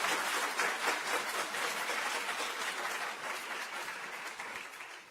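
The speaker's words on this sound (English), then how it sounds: "could we just applaud Sarah one more time?" An audience at a lecture gives a sustained round of applause, a dense, even wash of clapping that holds steady and tapers slightly toward the end.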